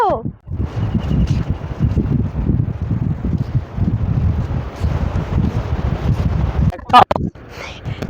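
Strong wind gusting over a beach on Henry Island, blowing sand around in a steady, loud roaring rush with buffeting on the microphone, a brief sharp knock near the end.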